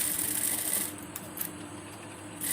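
A sewing machine stitching a lining blouse, a brief steady mechanical whir that drops to a quieter hum partway through.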